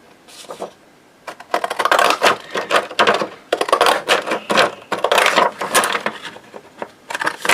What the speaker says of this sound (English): I'm going to use my Collage scissors.